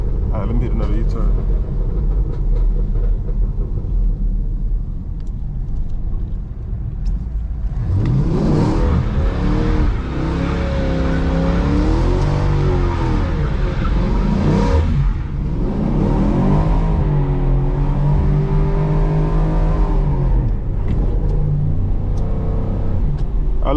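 Chevrolet SS engine revving while doing donuts on a wet road at night, climbing and falling through repeated loud rises over steady rumble, a voice speaking briefly.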